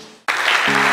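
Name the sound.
applause from the 208 members at a general assembly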